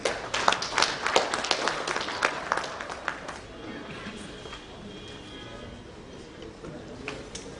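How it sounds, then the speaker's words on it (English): A hall audience applauds a Bihar government minister at a 2016 smart city event, dense clapping strongest at the start and thinning to a softer, sparser patter toward the end. "Please give him a round of applause."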